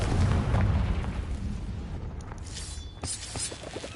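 A Confringo explosion spell in the Hogwarts Legacy video game. A loud booming blast opens, then fades into scattered sharper pops and bursts, with no talk over it.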